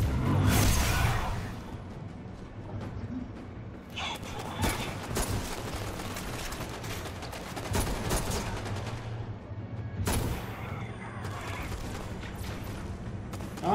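The Icebreaker sniper rifle fires in the game Destiny: Rise of Iron. Loud, close shots and bursts of impacts and explosions pile up thickly, with whooshes and game effects running throughout.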